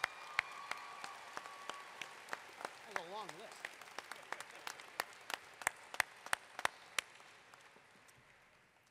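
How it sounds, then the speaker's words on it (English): Scattered, sparse clapping from a small audience at a college commencement ceremony, irregular claps spread across several seconds, with a voice speaking briefly. "Please join me in applauding these special guests."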